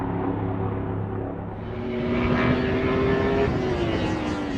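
A 2015 Yamaha YZF-R1 1000 cc sport bike runs on a race track, its engine droning steadily and then rising in pitch as it accelerates, loud and close.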